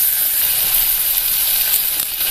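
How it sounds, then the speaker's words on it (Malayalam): Garlic, ginger and onions sautéing in a pan on a medium flame, giving a continuous, fairly loud sizzling hiss close up with no voices. "ഒരു മീഡിയം ഫ്ലെയിമിലോ അതിൽ കുറച്ചോ വെച്ചൊന്ന് വഴറ്റിയെടുത്താൽ മതി"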